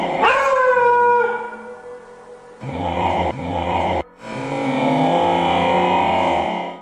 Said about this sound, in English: sounds the dog is making are usually a warning